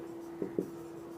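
A pen writing a sentence by hand on paper, two brief soft scratching strokes close up over a steady low hum, with no talking.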